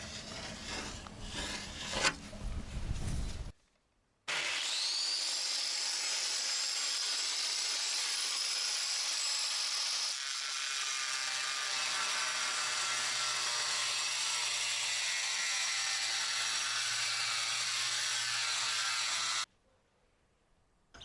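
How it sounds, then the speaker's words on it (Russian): An angle grinder with a concrete disc cuts through slate sheets, a loud, sustained high-pitched whine of the spinning blade biting into the material for about fifteen seconds after a short burst of rough scraping. "Обрезал я листы с помощью болгарки и круга по бетону."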